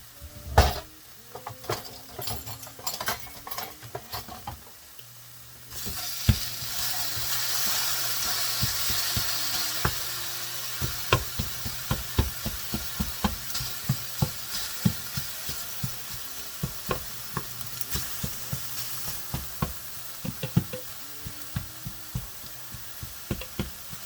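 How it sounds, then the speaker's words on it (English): Ground turkey sizzles in a hot frying pan while a utensil scrapes and knocks repeatedly against it, close by and busy, with the sizzle swelling partway through. "Let me just stir my turkey here."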